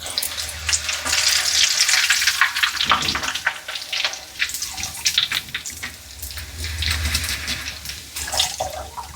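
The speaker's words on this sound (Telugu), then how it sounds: "తొందర తొందరగా వేగిపోతాయి మన అటుకులు" Flattened rice (poha) deep-fries in hot oil for a homemade corn mixture snack. A loud, close, bubbling rush of oil surges and eases in waves, with crackling hiss on top and no talking.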